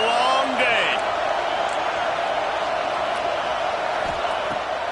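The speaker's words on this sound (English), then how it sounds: "This crowd, full throat, splitting the eardrums and letting them know it's going to be a long day." Stadium crowd at an Ohio State vs Texas football game roaring at full throat, a dense, loud, sustained wall of cheering that holds steady throughout.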